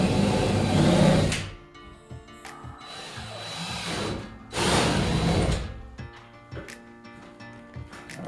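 A power drill bores holes through wooden boards, whining loudly in two long bursts with quieter gaps of clatter and handling noise between them, close by and without speech.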